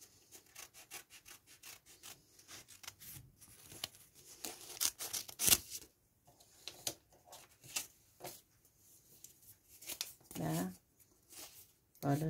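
Scissors snip through paper while a face mask is cut out, giving a run of short, crisp rasping cuts in irregular bursts at close range, with quiet speech in the background.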